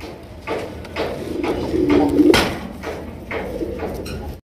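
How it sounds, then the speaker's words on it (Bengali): A big-sized pair of red Rajgolla pigeons coos close by in soft, rolling, repeated calls that swell and fade with little else around them. "একদম বিগ সাইজে একজোড়া লাল কালারের রাজগোল্লা কবুতর"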